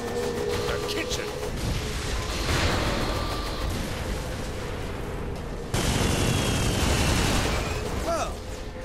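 Explosion and gunfire in Saints Row 4, booming blasts and crackling shots rolling on amid a loud, dense combat din, with voices talking over it.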